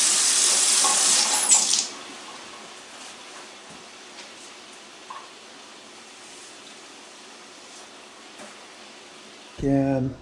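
Water running into a pot of homemade chili, a soft steady flow that starts louder for about two seconds and then fades to a faint trickle, with a short burst of sound near the end.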